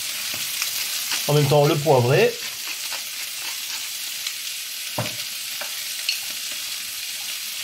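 Octopus fricassée in the Provençal style sizzling steadily in a pan as it is stirred, with a short stretch of speech near the start.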